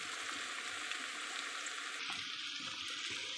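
Garlic frying in a pan with cumin and onion, a steady close hiss and crackle of hot oil that continues without a break.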